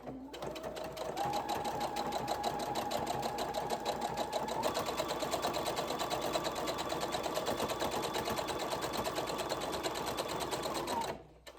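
Sewing machine stitching the edge of a V-neck garment, a loud, close, continuous motor whir with a rapid needle rhythm that holds steady, shifts pitch slightly midway and stops abruptly at the end.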